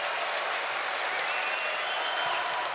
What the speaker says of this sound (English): Gopher crowd coming alive.